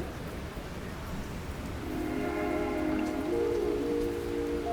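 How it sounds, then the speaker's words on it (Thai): Rain falling ahead of a returning storm in Harlem, New York, a steady patter of drops on surfaces. A low tonal hum rises partway through, with no speech. "รู้สึกฝนไล่มาแล้วนะคะเดี๋ยวจะรีบกินก่อนที่พายุจะมาอีกรอบนึงค่ะ"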